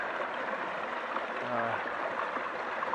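Rock Creek, a stream running through a wooded spot in Washington, D.C., flows with a steady broadband wash, close and continuous, with a brief low hum from somewhere in the background.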